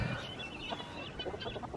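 Chickens cluck softly in a coop, with three roosters in the flock and ducks nearby, giving faint, scattered low clucks over a steady background hiss.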